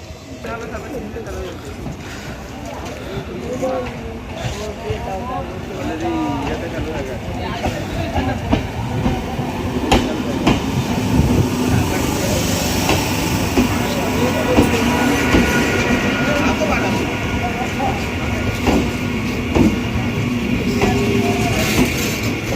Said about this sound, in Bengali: তো চলো বন্ধুরা ট্রেন ঢুকুক